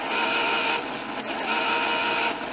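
A ZX81 printer runs fast in a loud, steady buzzing whir, printing continuously close up with a brief pause midway and no talking.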